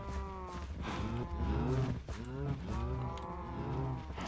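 Cows mooing in the video game Minecraft, several long drawn-out moos following one another and overlapping, loud and close with no talk over them.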